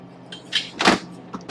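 Freezer drawer of an LG refrigerator in a 2024 Fleetwood Discovery LXE 44B diesel pusher RV sliding out, heard as a short sliding rumble with a few light clicks and knocks around it, close and fairly quiet.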